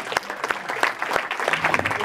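A seminar audience claps for a CEO mindset talk, with a short round of scattered, individually distinct claps heard up close.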